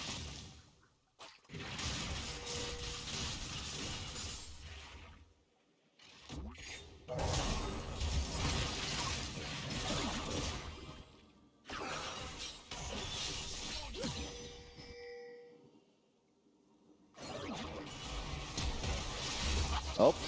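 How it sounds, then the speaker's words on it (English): Watery, splashy, shattering in-game effects from League of Legends, including Pool Party Orianna's auto-attacks, come in several loud bursts separated by short silences during a competitive match, with faint speech mixed in. "the animations on Pool Party Oriana and like the sound effects of her autos are so good"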